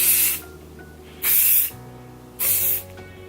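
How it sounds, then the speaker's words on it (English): Osis Stronghold hairspray is sprayed onto styled hair in three separate bursts of loud, airy hiss, each lasting about half a second, with quiet gaps between them. "Today I'm using Osis Stronghold Hairspray."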